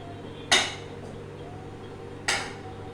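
A metal bowl of chocolate set onto a pot of hot water on a gas stove, giving two sharp metallic clanks about two seconds apart, close and fairly loud over a low kitchen hum.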